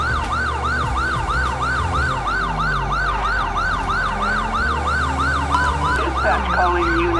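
A rapid yelping police siren from GTA V's LSPDFR mod cycles loud and steady throughout, close by, over a low rumbling engine, with a brief clatter near the end.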